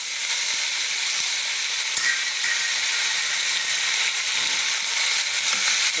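Curry leaves sautéing in a hot pan give a steady, close hiss and sizzle with faint crackles, the sound continuous and even throughout.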